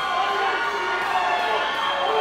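Wrestling arena crowd at an All Pro Wrestling event awaiting Matt Hardy, a dense sustained roar of cheering and shouting voices filling the space.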